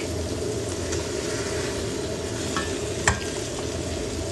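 Chicken sizzles steadily in a pan of frying tomato paste and chopped tomatoes for a Saudi chicken majboos, a dense even hiss with one sharp clink of a utensil near the end.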